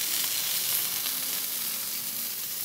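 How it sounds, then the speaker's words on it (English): Onions sizzle and fry in a hot pan as they caramelize, a steady close hiss with faint crackling and no speech over it. "So you can see already the onion start to caramelize."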